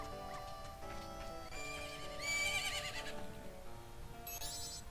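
A horse whinnies loudly with a shrill, wavering neigh over a steady background of game music and ambience, at a ranch in The Legend of Zelda: Majora's Mask.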